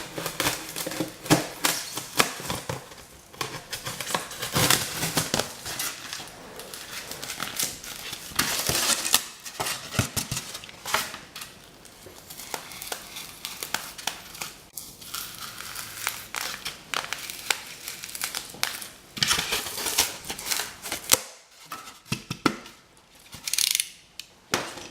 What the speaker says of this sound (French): Nous allons couper sur les traits qu'on a fait au feutre.